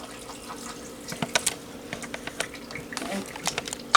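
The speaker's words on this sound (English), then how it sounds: "So you pour your salt water in." Salt-water brine is poured into a mason jar packed with vegetables for lacto-fermentation, a close, trickling splash with scattered clinks and bubbling over a few seconds.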